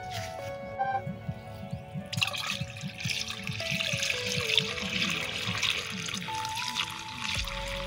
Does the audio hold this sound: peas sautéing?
no